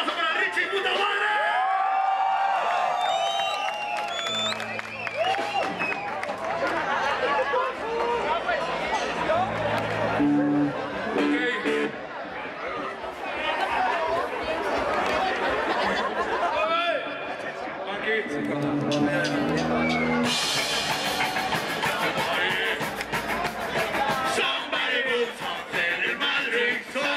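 Crowd at a live punk concert cheering, whooping and shouting over a loud, dense din, with voices calling out through the noise.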